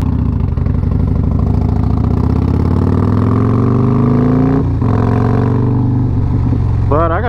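A Harley-Davidson Road Glide motorcycle engine while riding on the road, a loud close rumbling drone that rises and shifts with throttle, wind noise throughout and a voice speaking near the end.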